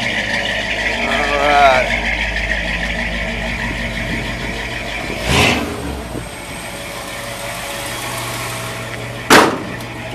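A 1957 Chevrolet Bel Air with a dual four-barrel V8 and automatic transmission runs at a steady idle nearby. Two sharp bursts of noise stand out over the engine, and a voice speaks briefly.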